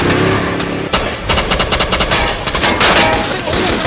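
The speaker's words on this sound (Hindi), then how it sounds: "तुम भी गोलियां चलाओ।" Loud, close machine-gun fire in a Hindi-dubbed Hollywood army action movie, rapid rattling bursts packed tightly over the whole stretch with heavy booming impacts mixed in.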